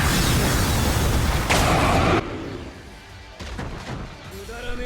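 Loud, dense blasts of a soul bomb attack animation from the Bleach Brave Souls video game, a sustained roaring wall of impact noise that cuts off abruptly, followed by quieter crackling bursts and scattered effect sounds.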